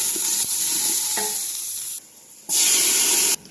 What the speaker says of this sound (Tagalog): Fry po natin itong beef